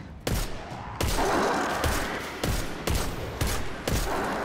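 Rapid bursts of gunfire in the Destiny 2 video game, five or six loud, close volleys each starting sharply and trailing off into a sustained roar.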